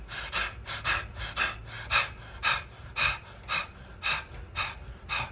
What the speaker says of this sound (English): It's a panting breath where you're focusing on the exhalation.